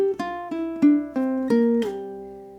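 Short ukulele etude phrase of about six plucked notes, each slurred with pull-offs into lower ringing tones, played slowly and cleanly up close and unaccompanied.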